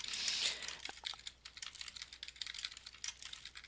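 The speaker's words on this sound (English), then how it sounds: "then we can begin typing our very interesting message" Steady keyboard typing up close, a quick run of light clicking keystrokes following a brief hiss at the start.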